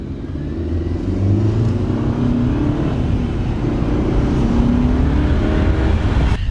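A Mercedes-Benz C250 (W204 C-Class) engine with an aftermarket intake revs steadily and loudly close by, a throaty intake roar rising and falling slightly with no voices.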